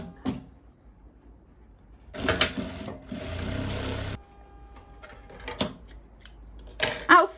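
Sewing machine stitching a small fabric strap onto a garment, heard in a couple of short bursts of close, steady motor whir separated by quiet handling clicks and rustles.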